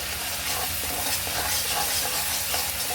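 Kashmiri chili powder fries in oil for hilsa tel jhal, producing a loud, dense, unbroken sizzle close by, with no pauses or voices.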